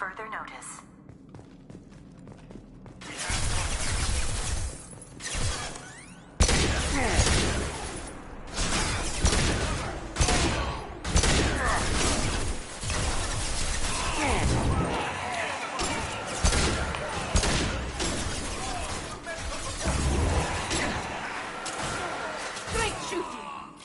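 Gunfire and impacts from the sci-fi shooter Mass Effect crack and thud in bursts around a mining facility, loud and irregular, with crashes and footsteps mixed in and voices talking over the combat.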